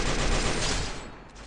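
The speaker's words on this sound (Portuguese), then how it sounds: "Ele tá tomando tiro de outro cara aí, ó." Dense automatic gunfire in the Free Fire battle royale game, a steady rattling burst of rapid shots at close range that fades slightly toward the end, with no talk over it.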